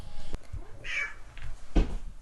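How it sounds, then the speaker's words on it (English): A domestic cat gives one short, fairly close meow amid quiet room noise, soft knocks and handling sounds. "the cat's come to say hello"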